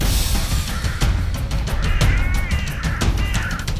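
A crow in the Welsh spring countryside gives a rapid series of loud, harsh caws, close and clear in open air.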